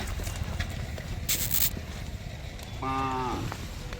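A calf gives a short moo near the end, heard against a noisy livestock market where calves are sold for bullock-cart racing, with clatter and bustle throughout.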